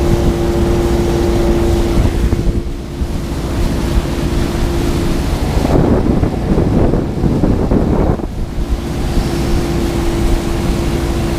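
A motorboat engine runs steadily with a constant drone and hum, mixed with wind noise and water splashing that swells in the middle, loud and close throughout.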